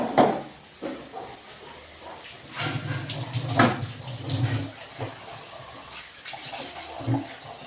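Water is poured into a hot pan of potatoes during cooking, hissing and splashing close by in uneven surges and then easing off.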